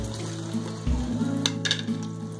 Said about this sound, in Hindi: तो इस देसी घी में हम ये प्याज फ्राई कर लेंगे।